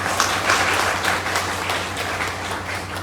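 Audience applause at a closing seminar for a direct-selling business, a steady wash of many hands clapping that fills the hall at an even level for the whole stretch.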